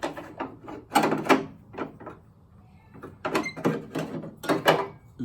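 A car door being fitted and slid into place on a coupe during a convertible door conversion. It comes as a series of close, irregular metallic scrapes and knocks with quiet gaps between them.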